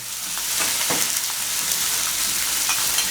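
Baby corn, carrot and green peppercorn stir-fry for pad kee mao in a loud, continuous sizzle, with rhythmic scrapes and tosses of a spatula through the hot oil and no voices.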